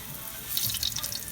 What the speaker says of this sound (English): Our oil is hot, so I'm going to put our fish in.